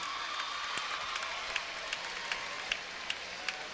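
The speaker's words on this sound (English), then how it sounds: "Good hand from the crowd here." A crowd at a high school basketball game gives scattered, fairly distant applause, with individual claps and sharp squeaks popping out over a low steady crowd murmur.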